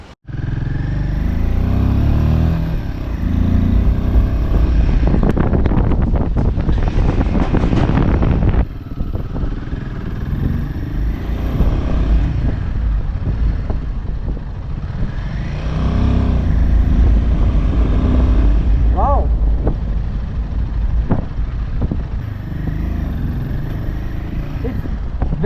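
Royal Enfield-style touring motorcycle nicknamed Basanti revving in performance mode at high Himalayan altitude near Chitkul, engine loud and continuous throughout with a brief harder rev burst, wind noise over it.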